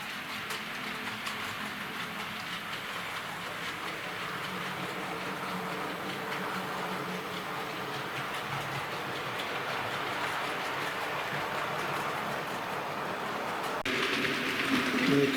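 An A1 steam locomotive and a Class 40 diesel, both model trains, pass on the track with a steady rolling rumble and clatter of wheels that builds slightly louder toward the end, with no voices.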